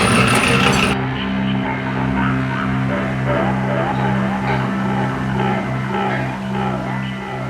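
Old horseshoes tumble inside a Central Machinery cement mixer. A loud, steady motor drone runs throughout, with irregular metallic clanks and clinks over it and no talking.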